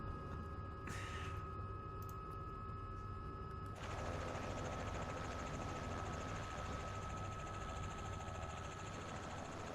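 A helicopter in Microsoft Flight Simulator 2024 with a steady rotor and engine drone, faint and continuous, a brighter whine joining partway through.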